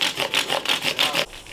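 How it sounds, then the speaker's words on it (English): Rolled sandpaper wrapped over a finger rubs along a wooden guitar fretboard in quick back-and-forth strokes, about eight rhythmic rasping passes close up, then a faint final stroke. "I came back with sandpaper rolled over a finger,"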